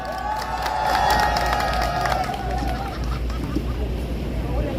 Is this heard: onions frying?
no